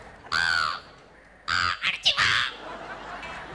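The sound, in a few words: performer imitating a crow cawing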